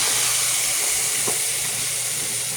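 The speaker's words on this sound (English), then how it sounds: "Now I'm going to put the fried fish in" Small pieces of fish fry in hot oil, a loud, dense, continuous hiss close by with one brief crackle in the middle and no voices.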